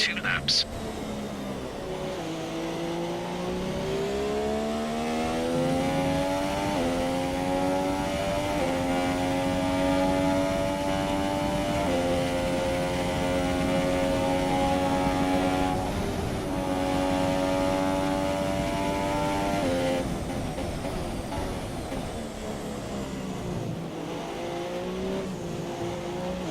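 A Force India Formula 1 car screams around the Japan circuit in the F1 2017 video game, its engine note climbing and dropping through steady gear changes. The high, harmonic whine runs loud and continuous beneath a commentating voice.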